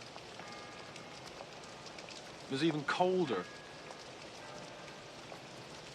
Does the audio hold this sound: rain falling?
yes